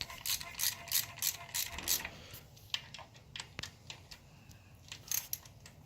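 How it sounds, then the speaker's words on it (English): A ratchet clicks in quick bursts while tightening the clutch cover bolts in a star pattern on a 2008 Suzuki Hayabusa, with short pauses and isolated metallic ticks between the runs of clicks. "we're going to go around in a star pattern and tighten this all up"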